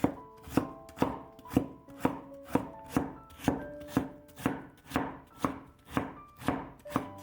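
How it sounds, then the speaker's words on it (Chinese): A knife chops peeled radish into thin strips on a cutting board, with about a dozen crisp, evenly spaced strokes in a steady close rhythm and no voices. "萝卜去皮之后放在案板上，先给它切成薄片， 再改刀切成细丝。"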